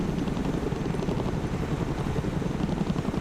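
A helicopter in the Broken Arrow military strategy video game, a continuous low rotor drone with a rapid fluttering chop, fairly loud and steady throughout, with no speech over it.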